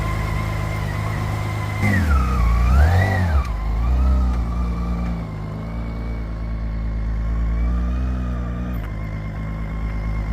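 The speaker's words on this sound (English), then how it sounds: "I still follow the old school way of letting the bike run a little bit before" A BMW motorcycle engine idles steadily in chilly weather to warm up, with a brief rise in revs near the start before settling into a constant, close, even running note with no talking.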